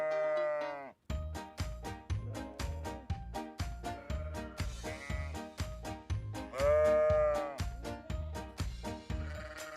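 Farm sheep bleat loudly and up close, one long wavering call at the start and another near the end, over a steady rhythmic percussive beat.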